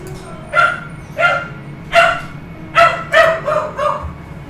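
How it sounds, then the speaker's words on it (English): A dog barks in the background, about seven sharp, separate barks spaced through the scene, fairly loud against a quiet room. "that is my dog in the background."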